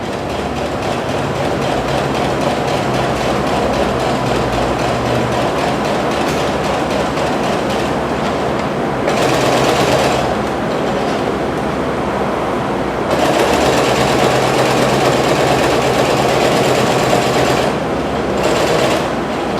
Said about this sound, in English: So I'm sewing the fabric now on the white line.